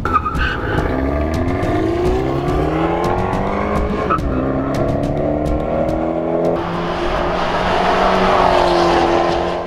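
A 2012 Fiat 500 Abarth races around a track, its engine revving loudly through rising and falling gears with steady exhaust drone, then a broader roar as it accelerates hard near the end.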